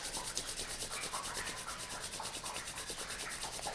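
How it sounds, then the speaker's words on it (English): Two hands rub briskly together for several seconds, giving a close, continuous rhythmic swishing with no talking. "Rub your hands together quickly for 30 seconds"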